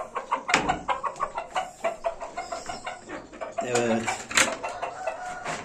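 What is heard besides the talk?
chicken clucking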